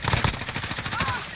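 Sniper rifle fire in the shooter game Warzone, several sharp cracks in the first half, the opening ones loudest, followed by scattered weaker reports amid busy game noise.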